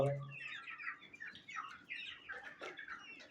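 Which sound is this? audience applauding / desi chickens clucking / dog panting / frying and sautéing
desi chickens clucking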